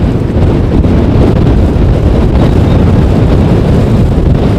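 Strong storm wind sweeps across Amsterdam Schiphol airport, buffeting the microphone with a loud, steady roar and no voices.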